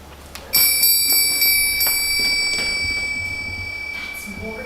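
A clock chimes with a sustained ringing bell tone that starts abruptly and slowly decays, loud and close, with faint voices before it.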